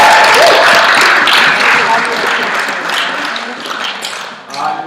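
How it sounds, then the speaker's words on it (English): An audience applauds after a debate final in a hall, a dense wash of clapping that starts loud and slowly tapers off over about five seconds. "we can deserve another round of applause"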